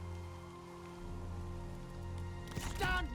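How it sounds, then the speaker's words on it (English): Rain falls steadily in the strategy game Total War: Three Kingdoms as a constant soft hiss beneath a low ambient game hum, with a brief louder swell of game effects near the end. "it's raining"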